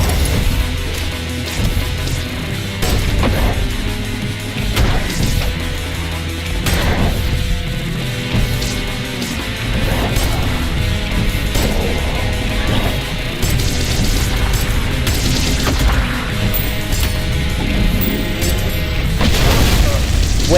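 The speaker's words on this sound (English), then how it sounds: "That was a crazy explosion" Explosions in a video game crash and boom in dense, continuous bursts, loud and close, layered with smashing impacts and steady game music throughout.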